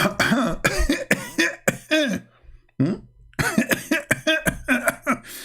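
A person talks and breaks off for a couple of short, sharp coughs, close to the listener.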